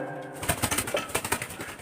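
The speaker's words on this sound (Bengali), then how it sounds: "পায়রাগুলো খাওয়ার জন্য ছটফট করছে।" Pigeons in a coop cooing and fluttering as they wait to be fed with rice, a rapid run of soft close calls and wing flaps.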